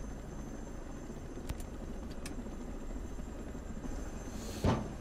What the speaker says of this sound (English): it always is going to start with a good old helicopter crash.